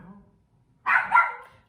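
A pet dog gives a short burst of barking, two or three quick yips close by after a quiet pause, with a faint voice before it.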